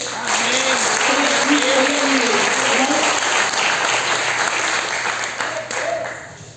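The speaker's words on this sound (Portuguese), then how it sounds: "Aplauda o Senhor" A church congregation applauds during a service, a loud and sustained wall of clapping with a voice calling out over it.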